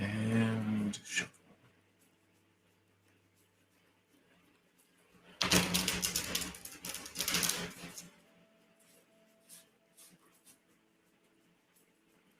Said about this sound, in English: And shuffle.